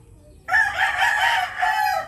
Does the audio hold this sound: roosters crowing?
yes